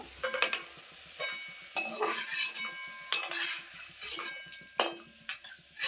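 Boiled potatoes frying in oil with salt and turmeric for Bengali-style chirer polao, with a constant sizzle under repeated metal spatula scrapes and clinks against the pan, close and lively, no voices.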